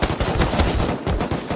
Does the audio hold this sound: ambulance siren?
no